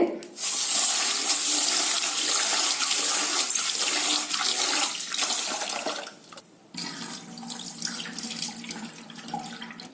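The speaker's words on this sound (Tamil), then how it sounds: "உளுந்தும் வெந்தயத்தையும் கழுவிக்கலாங்க இது மூணு தடவை கழுவிக்கலாங்க தண்ணி விட்டு" Water runs and splashes steadily while urad dal and fenugreek are rinsed, a continuous close wash that briefly dips and thins out near the end.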